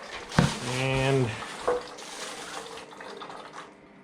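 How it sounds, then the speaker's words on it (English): Oil sloshes and gurgles faintly inside a Pelonis oil-filled radiator heater as it is moved, a soft liquid swirl behind a brief vocal exclamation near the start. "With the oil sloshing around in there."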